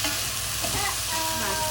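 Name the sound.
liquid with fish sauce sizzling in a pan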